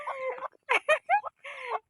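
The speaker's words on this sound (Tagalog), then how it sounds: "nakakita ako dito ng inahing manok" A hen clucks in several short, close bursts with brief pauses between them, clear against a quiet background.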